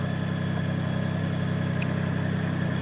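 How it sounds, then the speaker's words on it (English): A Lexus hybrid engine, forced on in maintenance mode, idles with a steady, even hum and low rumble throughout, close and continuous, with no talking. "my engine starts and it won't cut out now until I cancel the function or I turn the key off"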